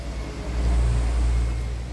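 A car engine idling smoothly after start-up on a used car offered for sale, a steady low rumble with a slight rise in the middle, heard alone and fairly close without any talk.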